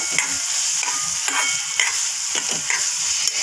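Tomato with salt stir-fried in a pan, a loud close sizzle punctuated by rhythmic spatula scrapes every half second or so.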